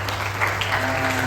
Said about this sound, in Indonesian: yang bangganya tepuk tangan dulu